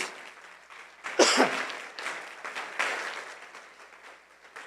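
A church congregation applauds during a sermon. The clapping is moderate and uneven and swells and fades, with a cough or throat-clear near the start and scattered voices in the room.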